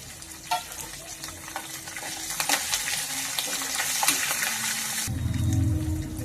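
Curry leaves, ginger and green chilies fry in oil for tamarind rice. The sizzle is steady and close, broken by scattered crackles and pops, and a low rumbling noise takes over near the end.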